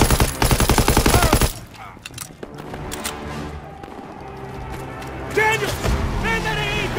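Rapid bursts from an anti-aircraft gun in Call of Duty WW2, a loud hammering stream of shots that cuts off abruptly, followed by quieter battlefield noise and shouted voices.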